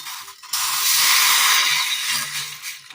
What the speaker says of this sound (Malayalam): കട്ടൻ ചായ അടുപ്പത്ത് വെച്ചതിന് ശേഷം നന്നായി ഒന്ന് തിളകേറി വരുന്നുണ്ട്